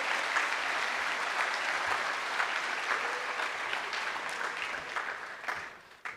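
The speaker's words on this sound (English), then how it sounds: "Give yourselves a round of applause." Sustained audience applause fills a high school senior graduation ceremony, a dense steady wash of many hands clapping that carries on for several seconds before tapering off at the end.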